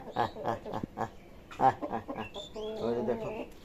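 A Brahma chicken clucks in short bursts close by, mixed with other fowl sounds and a person talking over much of it.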